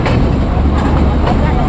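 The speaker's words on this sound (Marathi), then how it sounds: "ट्रेन खूप हळूहळू चालते, खूप स्लो गाडी चालते।" Slow Matheran hill train rolling along its rails, a steady, loud, continuous rumble with faint rhythmic rail noise, heard close from on board with people talking throughout.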